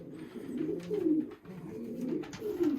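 Pigeons in a loft give soft, low, rolling coos in two close, continuous phrases, quiet and near.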